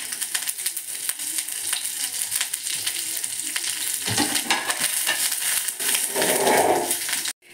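Curry leaves sizzle loudly as they fry in a pan for a chutney powder, a steady crackling hiss broken by sharp spits and stirring scrapes, close and continuous until it cuts off abruptly.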